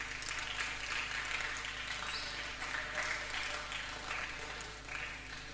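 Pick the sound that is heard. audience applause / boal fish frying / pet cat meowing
audience applause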